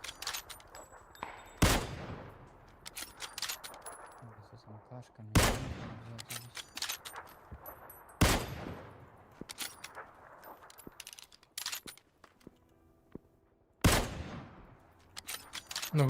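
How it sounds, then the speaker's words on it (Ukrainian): Gunfire in the battle royale game PUBG, several sharp loud shots spaced a few seconds apart with quieter distant pops in between, heard alone without talk. "На горі мейбі хто стріляє."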